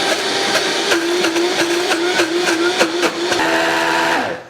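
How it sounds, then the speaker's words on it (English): A kitchen blender runs at full speed mixing vegan organic vanilla frosting, a loud, steady whirring whine with slight pitch wavering that holds for several seconds before cutting off. "So I'm going to turn on the blender"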